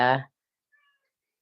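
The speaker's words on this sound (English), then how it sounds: "Pardon my cat." A chatty house cat gives one short, close meow, then a faint, brief chirp follows in otherwise quiet indoor surroundings.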